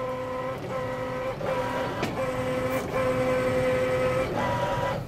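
An embroidery machine stitches quilt fabric with a steady mechanical hum and bright tonal whine, broken by brief pauses and clicks as it runs through its last stitches, close and continuous.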